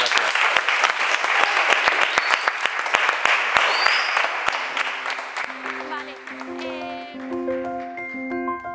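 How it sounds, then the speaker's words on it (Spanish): Applause from an audience after a talk at a science reading event, clapping loud and steady at first, then thinning out as a chiming tone and faint voices take over near the end. "Vale, le damos un aplauso a Damián."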